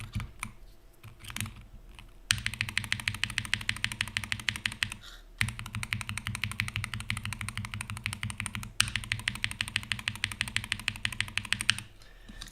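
Fast, steady typing on a mechanical keyboard fitted with GMK keycaps, close and crisp, in bursts separated by short pauses.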